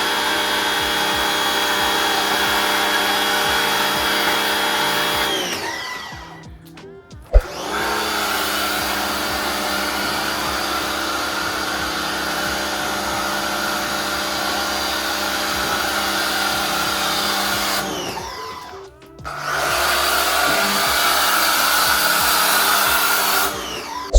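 A foam sprayer hisses steadily as it blows soap foam onto a car in a loud, continuous spray, cutting off briefly twice with a sharp click before starting again.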